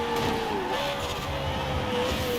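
BMW M3 GTR racing car in Forza Horizon 4, its engine note climbing and gliding in pitch as it revs, close and steady with a rumbling undertone and no talking.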